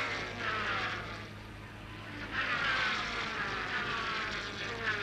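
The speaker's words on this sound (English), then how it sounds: "The V8 BRMs make a wonderful sound at Lakeside." V8 BRM racing cars scream past at Lakeside during the 1966 Tasman Series, with engine notes swelling and fading as they pass at moderate distance.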